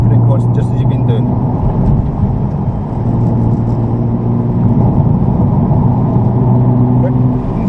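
A Nissan GTR on track pulls along under steady throttle through corners, a loud, constant engine drone heard from inside the car, with a voice talking over it.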